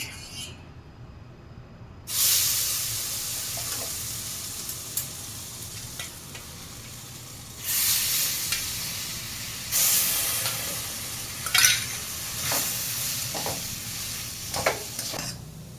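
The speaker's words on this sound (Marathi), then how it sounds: "इथे दोन चमचे दूध टाकायचे आहे" Milk is splashed into besan roasting in ghee for besan laddu and stirred. Sharp bursts of hissing sizzle flare up and fade several times over a soft, steady stirring background.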